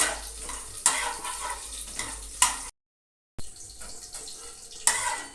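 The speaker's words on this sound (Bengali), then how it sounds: "বড়িটাকে লাল করে ভেজে নিতে হবে" Lentil dumplings fry in oil until red, a close, bubbling sizzle with sharp spatula scrapes and clinks at intervals, cut by a brief stretch of silence partway through.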